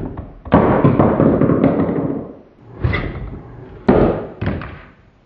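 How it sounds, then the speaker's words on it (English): An Octonauts OctoLab toy flare gun launching gives several loud, close plastic thumps and whooshing bursts, three main hits spaced a second or so apart. "It's a flare gun for rescues. So let's ready, set, push."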